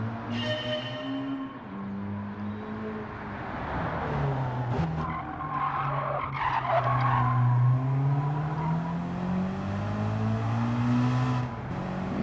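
A BMW E30 M3 Sport Evolution at speed on a race circuit, engine droning and shifting pitch through the run, with sustained tire squeal and skidding rising in the middle; loud and continuous, no talking.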